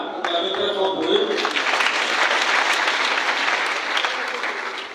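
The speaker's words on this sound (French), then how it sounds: "Acclamez très fort pour eux." A crowd applauds loudly for Malian guests at a celebration in Burkina Faso, dense sustained clapping that swells in after a brief voice and continues without pause, with faint cheering inside it.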